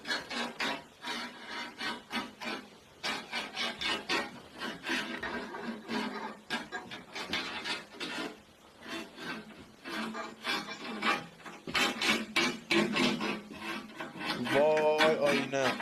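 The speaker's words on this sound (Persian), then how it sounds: "ببین یه صدای اره مانندی داره میاد، انگار مثلا داره یه چیزی رو میبره، انگار داره چوب میبره" Repeated saw-like rasping strokes, as of wood being cut, come in a steady rhythm of bursts, fairly loud and close, with a brief whining tone near the end.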